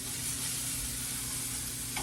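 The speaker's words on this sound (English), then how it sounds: "while our bacon is frying" Bacon fries in a pan, giving a steady, dense crackling sizzle that holds at an even level throughout, close and fairly loud with no talking.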